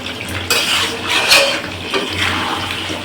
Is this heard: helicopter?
no